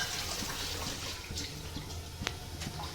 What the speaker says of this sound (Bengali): তো আমি এর মধ্যে জল দিয়ে দিচ্ছি